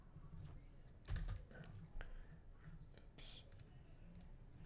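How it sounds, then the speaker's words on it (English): Quiet clicking of a computer keyboard being typed on, with irregular bursts of keystrokes and soft low voices or whispers underneath. "I'm back over here typing this in."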